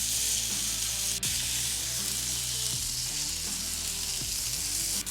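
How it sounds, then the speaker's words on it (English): Smash burger patties sear loudly on a flat cooking surface under a burger iron, a dense, continuous close-up sizzle with faint tonal hums underneath and no talk. "Now we're just gonna let these go for maybe 30, 40 seconds, just to give them a really nice sear on that side"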